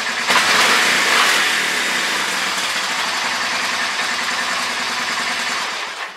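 A Honda 300 Fourtrax ATV engine runs close by just after starting, a loud steady rumble that settles into an even idle and fades slightly toward the end.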